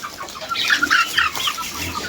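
Several chickens clucking close by, a busy cluster of short squawks and clucks, with a faint flutter of wings.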